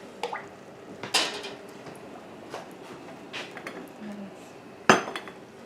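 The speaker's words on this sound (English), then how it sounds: "we're going to put this in the canner" A glass canning jar of tomato cowboy jam with its lid on is set into a canner, giving a few clinks and knocks, with one sharp glassy knock near the end over quiet kitchen background.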